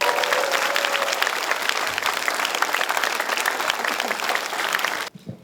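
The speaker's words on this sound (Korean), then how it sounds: "여러분 큰 박수 한번 해주시고 한번 따뜻하게 맞이해 주시기" Sustained audience applause in a university lecture hall, a thick wall of clapping from a large crowd that holds steady and then cuts off abruptly near the end.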